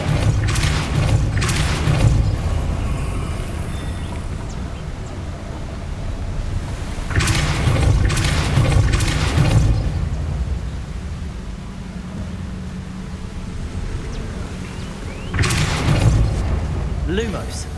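Forceful magical blasts from the Depulso spell in Hogwarts Legacy, heard as three loud bursts roughly eight seconds apart, each a booming whoosh over a low rumbling game ambience, with spoken incantations among them.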